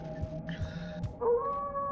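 A demon guard in the video game MistWorld howls, a rising, wavering canine-like cry that enters partway through over a steady low game ambience with droning tones, moderately loud and alone.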